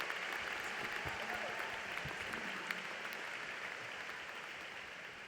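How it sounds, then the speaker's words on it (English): A commencement audience applauds its doctoral graduates with steady, dense clapping that fills the hall and holds at an even level throughout. "you can join me again in applauding our PhD, our EDDs, our PhDs"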